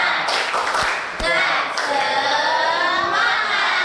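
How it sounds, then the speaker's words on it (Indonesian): A classroom group performs the rhythmic clapping routine 'tepuk semangat' as an ice breaker, loud, close patterned claps broken by shouted voices joining in. "Ice breakingnya itu tepuk semangat."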